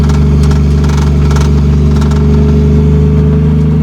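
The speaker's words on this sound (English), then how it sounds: "The Supra is on the road, baby!" A 1987 Toyota Supra with a swapped 2JZ-GE engine driving on a gravel road, its loud, steady engine drone heard from inside the car along with road rumble and no talking.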